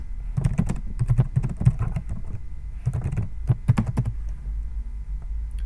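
Fingers typing code on a computer keyboard, two quick runs of rapid key clicks separated by a brief pause, close and clear over a low background hum.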